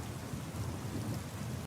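Heavy rain pours down steadily on a stormy night in a cartoon, a dense, loud wash of falling water with a low rumble beneath it, continuous throughout with no voices.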